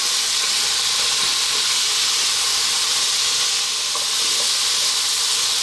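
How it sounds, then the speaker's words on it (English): Potato cubes fry on fairly lively heat in a pan for aloo keema, a loud, dense, continuous sizzling hiss heard up close with no talking. "we're going to fry these around on a fairly lively heat, as you can hear, for about 4 minutes"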